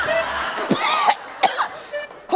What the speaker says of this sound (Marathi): खोकल्याचा त्रास कधीपासून आहे?